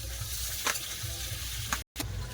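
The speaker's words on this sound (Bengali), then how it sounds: "এবার আলুগুলো ভেজে নেবো" Potatoes frying in hot oil in a home kitchen give a loud, continuous close sizzle with a couple of brief stirring scrapes and a momentary cut in the sound.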